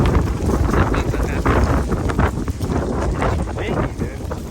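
Strong outdoor wind buffets the microphone during a workout session, a loud, constant low rumble with gusty swells that masks everything else.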